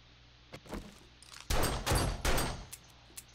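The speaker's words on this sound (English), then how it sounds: "Shoot with your shotgun." Shotgun blasts in the video game 7 Days to Die: a faint pop followed by three loud, heavy booms in fairly quick succession, close and dominant, with some quieter clicks after.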